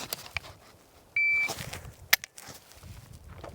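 A single sharp electronic beep from a shot timer sounds, followed by footsteps and quick clicking noises nearby.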